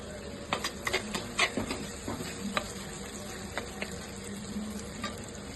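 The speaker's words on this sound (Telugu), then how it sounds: "ఉల్లిపాయలు మగ్గుతున్నాయండి." Onions and green chillies with rock salt fry in a pan for a fish curry, giving a steady low sizzle with scattered soft pops and stirring scrapes, fairly quiet and close with no talking.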